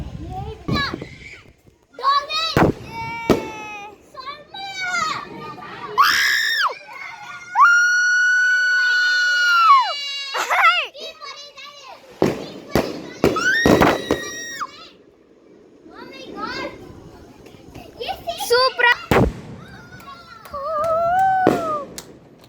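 Sharp firework bangs and crackles go off repeatedly at a Tamil village temple festival, close by, mixed with whistling rockets and excited children's voices and squeals.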